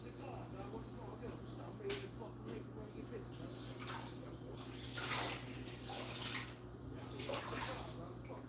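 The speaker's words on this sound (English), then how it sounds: "Let me do this quick rinse." Water runs steadily under a kitchen tap during a quick rinse, a soft continuous splashing that stays fairly faint throughout.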